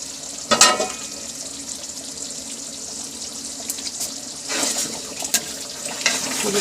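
Ground nutmeg, mace and green cardamom fry in korma masala with a soft, steady sizzle, broken by a few louder scraping stirs.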